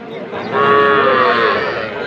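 A young heifer calf of a crossbred type lowing at a busy rural cattle market, one long, loud, close moo that swells and holds for most of the moment, with faint crowd murmur underneath.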